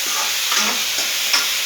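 Bottle gourd curry sizzling steadily in a pan as tomatoes go in, a close, even frying hiss with faint stirring scrapes and no talk.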